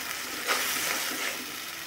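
Pieces of rui fish fry and sauté in hot oil in a pan, giving a soft, even sizzle with a few light stirring scrapes.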